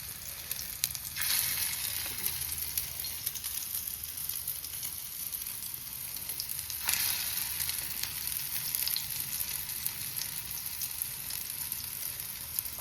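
Chicken frying in hot oil, a dense continuous crackling sizzle heard up close for the whole stretch, with a couple of louder bursts as pieces go in, no voices.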